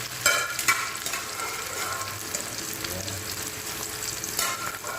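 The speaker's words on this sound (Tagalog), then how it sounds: "Dahil mainit na yung mantika, lagay na natin yung ating sausage. Ayan, ipapray natin yan" Sausage fries in plenty of hot oil in a pan, a loud, steady close-up sizzle with occasional sharper spits and pops near the start and end, and no talking.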